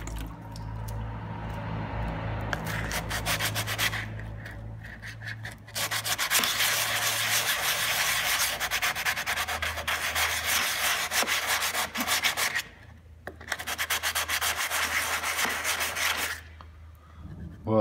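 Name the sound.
wet sanding a Suzuki Carry car body with sandpaper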